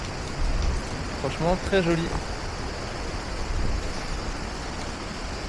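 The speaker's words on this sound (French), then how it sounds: "Une petite cascade" A small waterfall pours down like a shower, a steady broadband rush of falling water filling the whole scene, with a voice briefly speaking over it near the start.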